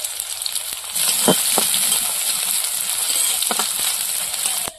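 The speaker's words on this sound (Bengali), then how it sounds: "পেঁয়াজ রসুনটা ভাজা হয়ে গেছে।" Onion and garlic fry in oil with dried chilli and five-spice in a pan, a close, steady sizzle and hiss with a few sharp crackles and stirring scrapes.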